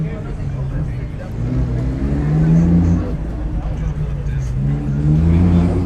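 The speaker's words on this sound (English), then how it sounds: "There's a Lamborghini" A Lamborghini drives past on a busy Beverly Hills street, its engine swelling and fading amid loud traffic rumble and crowd noise, with people talking nearby.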